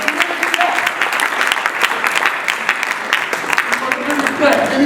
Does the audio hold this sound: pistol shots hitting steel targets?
no